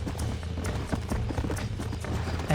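Horse hooves clip-clopping in Red Dead Redemption on PC, a fast, steady galloping rhythm close up and fairly loud over a continuous game background.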